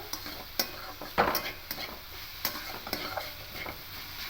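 Watermelon rind cooks with sugar in a pan, a soft sizzle under intermittent scraping and knocking strokes of a spoon stirring it, fairly quiet and close.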